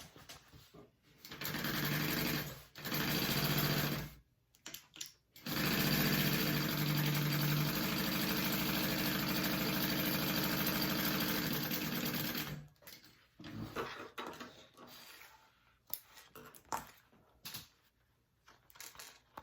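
Sewing machine stitching a tote bag's zipper pocket panel, running in several bursts: two short runs, then a long steady whir of about seven seconds, followed by handling noises.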